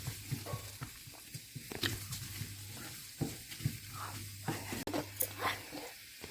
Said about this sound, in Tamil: ஒரு மூணு பூண்டு மிளகாய் போட்டுக்கிட்டு இதை நல்லா வணக்கிக்கலாம்